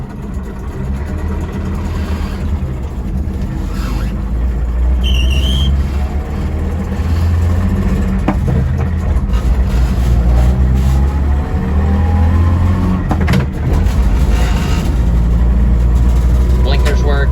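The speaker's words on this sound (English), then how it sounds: "you have to kind of listen to the motor and it'll let you know when to shift gears" A Suzuki LJ20V, a small four-speed off-roader in 2 high, drives along with its engine droning steadily and rising as it pulls, with low rumble and road noise throughout.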